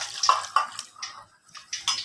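One cup of water is poured into a cooking pot while preparing a sweet besan dish, splashing in several short gushes with brief pauses between. The sound is close and fairly loud, with no voices.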